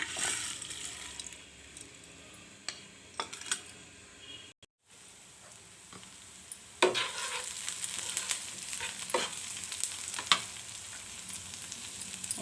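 Food fries in a pan with a steady, moderate sizzle broken by repeated scraping and clicking from stirring. The sound drops to silence for a moment midway, then the sizzle and stirring resume.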